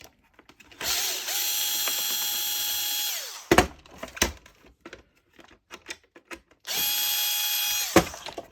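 A cordless screwdriver or drill whirs in two sustained runs, backing screws out of a Dyson direct drive vacuum head, with clicks and handling clatter between them, close up.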